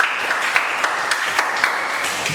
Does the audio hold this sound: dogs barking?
no